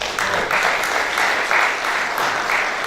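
Audience applauding at a 2018 Republican candidate forum for the DeKalb County Board of Education Place 3 race, a steady, dense wash of many hands clapping throughout with a faint voice beneath.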